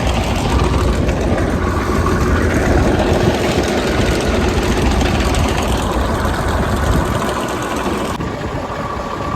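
A tractor engine idles in a farm field while a spray drum is filled, making a steady, loud, low rumble that continues unbroken and eases off slightly near the end.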